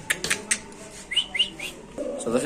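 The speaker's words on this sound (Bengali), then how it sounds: "এখানে আছে এক পিস শৌখিন কবুতর মাদি কবুতর" Pigeons at a pigeon farm give a run of short chirps and whistling calls, fairly close and moderately loud, with a soft low cooing texture underneath.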